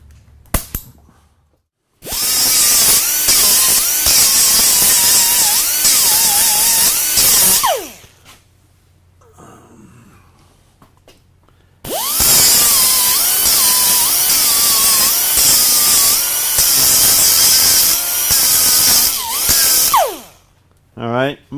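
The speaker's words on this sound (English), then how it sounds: "we're going to drill and tap that while it's in the machine right here" A handheld pistol drill bores into a metal part still mounted in the machine, running in two long, loud, high-pitched bursts of about six and eight seconds each, separated by a quiet pause.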